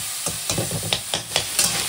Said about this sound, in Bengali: এখানে পেঁয়াজের সাথে চিকেনটাকে ভালো করে ভাজা করে নিচ্ছি